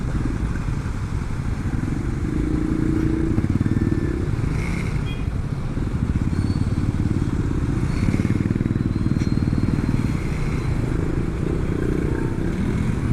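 Motorcycles squeeze through heavy, nearly stalled traffic, their mid-pitched engines droning continuously nearby over a clattering street background.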